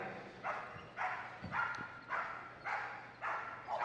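A police dog barks repeatedly in a steady rhythm, about seven sharp barks spaced half a second apart, moderately distant and fairly faint, during a sit-and-bark display at Crufts.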